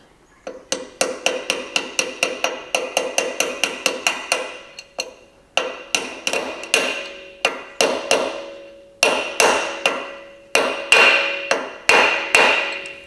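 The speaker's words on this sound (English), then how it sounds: "Now you want to gently tap that around." A hammer taps a wheel bearing race into a Nissan Patrol swivel hub, sharp metallic strikes in quick repeated runs with short pauses between bursts, close and loud with no talking.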